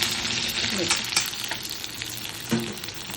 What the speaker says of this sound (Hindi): तो अच्छी तरह से इसको हम तेल में लाल करके भून लेंगे।